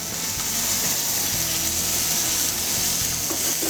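A bacon-wrapped pork tenderloin sizzles in a pan, a continuous close frying hiss with a few faint mechanical clicks and knocks underneath and no speech.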